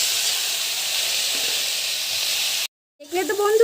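Steamed bottle gourd greens hit a hot frying pan with a loud, steady hissing sizzle that runs for a few seconds before cutting off, followed by a voice speaking.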